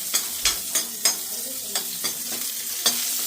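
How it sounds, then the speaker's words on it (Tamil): Onions sauté in a pan for sambar, a steady sizzle broken by regular scraping stirs, about one every half second, close and moderately loud. "வெங்காயம் போட்டு நல்லா வதக்கணும்"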